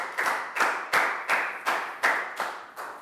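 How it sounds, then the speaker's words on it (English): A school class claps in a rhythmic round of applause, about eight evenly spaced claps over three seconds, steady and fairly close. "High five and a big round of applause for Pak Bung,"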